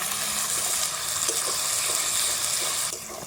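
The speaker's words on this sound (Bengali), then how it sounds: "মশলা কষানো হলো? আর একটু, এই তেল ছাড়ছে, আর একটু ছাড়ুক।" Turmeric, Kashmiri chili and coriander frying in oil in a pan for chicken curry, a steady close sizzle throughout with light stirring, no talking.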